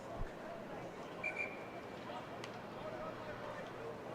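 A referee's whistle at a men's university rugby match between Queen's and Laurier gives one short, clear blast over steady outdoor field and crowd noise, with faint voices in the background.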